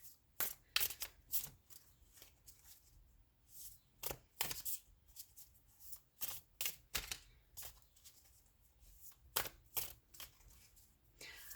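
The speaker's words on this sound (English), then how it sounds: "Just gonna shuffle my tarot and then pull all the cards" Crisp bursts of tarot card shuffling, a dozen or so quick riffles and snaps at uneven intervals, close and clear with no talking.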